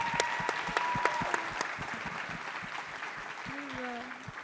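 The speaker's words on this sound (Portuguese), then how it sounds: "Gente, temos que aplaudir isso aqui." Audience applause at a Portuguese-language panel talk on philanthropic funds and civil society, a steady patter of clapping at moderate level with talk over it.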